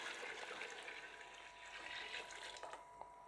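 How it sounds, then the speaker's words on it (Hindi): Water pours steadily into a large pot of mutton pulao, a soft continuous splashing rush, faint and even throughout with a small clink near the end. "और अब मैं इसके अंदर शामिल कर रहा हूँ 11 कप पानी।"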